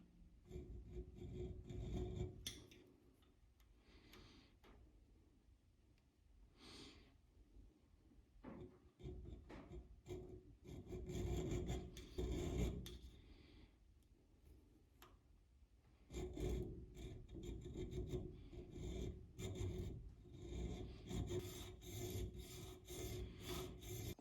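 Metal file rasping a small groove into the top of a Y-block engine's rocker stand, long repeated strokes in bursts with short pauses, close and fairly loud, no voices.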